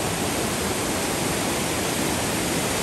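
Floodwater rushes steadily during Typhoon Tino on a farm, a dense, unbroken roar of water like a torrent, loud and constant throughout with no voices.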